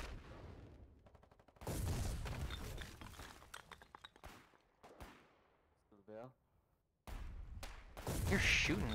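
Bursts of rapid gunfire and heavy impacts from a Foxhole battle, loud and dense in stretches with brief lulls between, broken by a short chirping mechanical sound, with a voice talking faintly over parts of the fighting.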